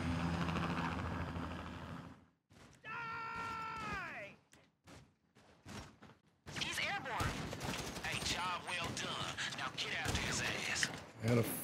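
Gunfire aimed at a helicopter in the video game GTA V, with bursts of shots and rotor noise loud through the clip, mixed with game sounds and broken by short pauses.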